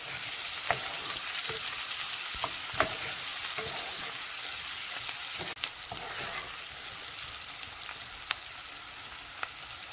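Onions fry in oil with turmeric and salt for tamarind rice, giving a steady close-up sizzle broken by scattered clicks and scrapes of stirring, with no talking.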